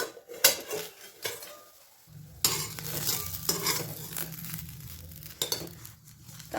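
Onion snack frying in a pan is flipped using a plate and set back on the pan, with scraping and clinks of the plate and pan, a sudden jump in sizzling, and scattered clatters over the steady frying.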